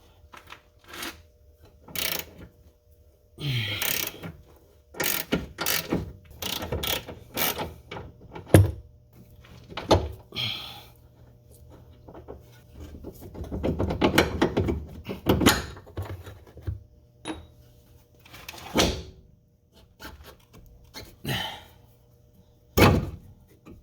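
Ratchet working a 15 mm lower control arm bolt loose on a 2007-2012 Ford Escape, Mercury Mariner or Mazda Tribute, with irregular bursts of sharp clicks and metallic clanks close by, no talk.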